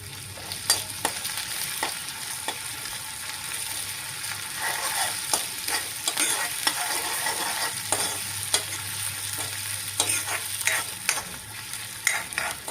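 Sliced onions and curry leaves fry in a pan for a tomato curry, a steady close sizzle broken by scraping stirs.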